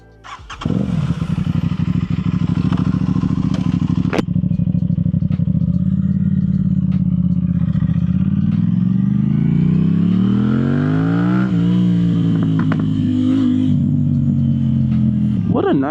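A motorcycle engine starts close by and idles loudly, then revs and pulls away with rising pitch; an Aprilia RS 660 sport bike, heard without talk.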